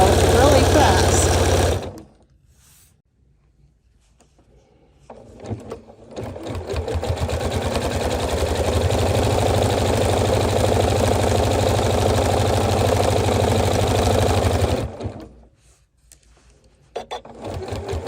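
Janome sewing machine with an AcuFeed Flex foot stitching fast, a loud steady mechanical whir that runs continuously for about ten seconds, with brief quiet moments before and after.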